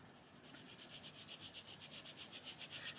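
A colouring pencil rubs gently across paper in quick, even back-and-forth strokes, a soft rhythmic scratching heard close up and quiet.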